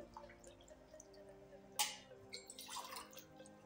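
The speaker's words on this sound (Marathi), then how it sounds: "तर इथे मी 1 ग्लास पाणी टाकते" A short splash of a glassful of water is poured, starting with a sharp burst and then a gurgling rush, over quiet background hum.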